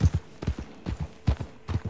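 Horse hooves clip-clop in a Wild West video game, a quick, steady rhythm, paired beats repeating about twice a second, close and moderately loud with no talking.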